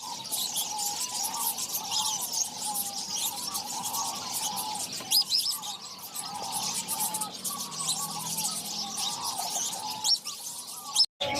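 Pure white doves kept as a breeding pair make repeated soft calls and chirps in a steady, close flutter of bird sound, with no talking.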